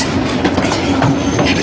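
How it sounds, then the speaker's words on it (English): Train departing from a station, loud and close, with rumbling wheels and a clickety-clack rhythm over steady rail noise. "The train's going."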